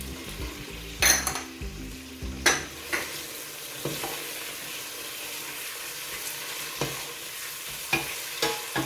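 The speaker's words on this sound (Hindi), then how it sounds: "टमाटर और सब्ज़ मिर्चें शामिल करने के बाद मज़ीद हम 2 से 3 मिनट इसे अच्छे से भूनेंगे, मिक्स करेंगे मसाले में अच्छे से" Tomatoes and green chillies being stir-fried in masala for an aloo matar pulao: a soft, steady sizzle under sharp clanks and scrapes of a spoon against the pot, close and rhythmic, with no voices.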